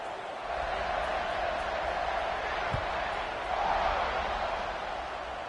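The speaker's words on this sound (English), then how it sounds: "They're set to kick it off, and this crowd now ready to get behind them" A stadium crowd at a college football game roars steadily as the teams line up for the kickoff, a broad, sustained wash of cheering that swells slightly midway with a brief thump partway through.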